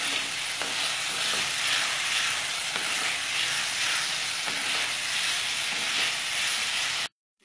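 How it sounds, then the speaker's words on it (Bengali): Spiced potatoes with asafoetida are stirred in a hot pan as the last of the water cooks off, giving a steady close sizzle and hiss with occasional soft scrapes of the spoon, then cutting to silence at the end. "যেটুকু জল আছে এটা শুকিয়ে ফেলব আমি নাড়তে নাড়তে।"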